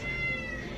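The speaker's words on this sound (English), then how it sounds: "And if you can hear my cat meowing, I'm sorry." A cat meows in a single drawn-out, tonal cry close by in a quiet indoor room, steady and fairly loud for under a second with no talking.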